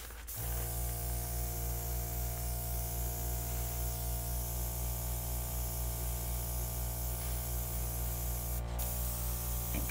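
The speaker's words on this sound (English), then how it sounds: "let's see what it looks like when I airbrush it" An airbrush sprays acrylic pour paint in a steady, continuous hiss over a low hum, starting abruptly and holding level, close and fairly loud.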